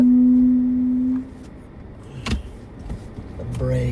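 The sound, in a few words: car brakes going crazy during a storm chase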